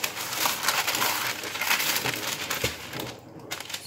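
Crisp crinkling and tearing of baking paper being cut close up, a continuous rustle with a few sharper snaps, no voices.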